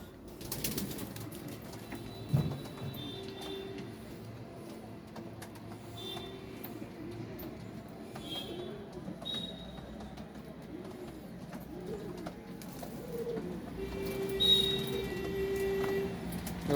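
Pigeons being fed at dusk give soft, intermittent coos over a quiet background, with a few brief clatters and a muffled thump, and no one speaking.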